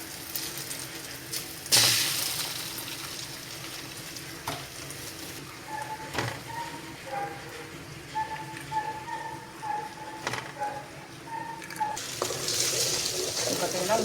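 Three cracked eggs poured into hot oil with onions sizzle and fry in a pan for a Tamil banana-flower egg podi rice, with steady crackling, a few clinks and some background noise, louder bursts at the start and end.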